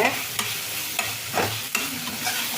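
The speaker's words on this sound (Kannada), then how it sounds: "ಇಲ್ಲಿ ಬೆಂಡೆಕಾಯಿ ಎಲ್ಲ ಚೆಂದಾಗಿ ಫ್ರೈ ಆಗಿದೆ" Okra frying in a pan is stirred with a few sharp scrapes of the utensil, set against a steady close sizzle, with no voices.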